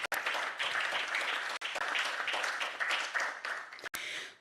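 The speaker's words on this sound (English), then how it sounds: "Please, just a round of applause once again for Mr." Conference attendees at a law and business event clap for a speaker, a lively burst of applause with brief gaps, continuing steadily for a few seconds.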